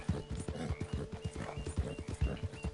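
Horse hooves gallop in Red Dead Online, a fast, heavy, evenly repeating drumming close up with a brief whinny-like tone mixed in.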